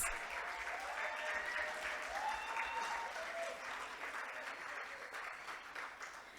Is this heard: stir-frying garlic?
no